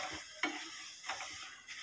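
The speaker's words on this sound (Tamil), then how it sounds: "இப்போ வந்து நம்ம எடுத்து வச்சிருக்க ரவை எடுத்து சேர்த்து வறுத்துக்குவோம்" Semolina (rava) roasts in ghee with cashews and raisins for rava laddu, a spatula scraping the pan in a few soft, scattered strokes over a faint, steady background hiss.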